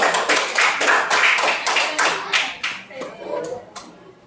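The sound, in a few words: class clapping hands to cheer on group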